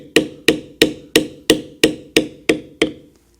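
Metal beveling tool struck with a mallet on leather during Celtic knot tooling: nine sharp, evenly spaced taps about a third of a second apart, close and crisp, with no talking.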